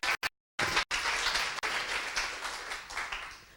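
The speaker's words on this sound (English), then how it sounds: "Can we please have a big round of applause for Lizzie?" A live audience gives a round of applause for speaker Lizzie Dyson at a talk, with dense continuous clapping that starts after a brief silence and holds steady, fading slightly toward the end.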